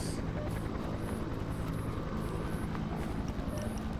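Helicopter in a survival video game, a steady low rotor drone with continuous dense rumble holding at a constant level across the whole stretch, with faint higher tones above and no speech over it.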